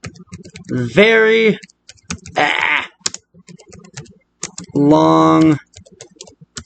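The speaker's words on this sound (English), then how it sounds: "Let's type in something long." Keys on a computer keyboard click in quick, faint, irregular taps, running between and beneath stretches of a voice talking.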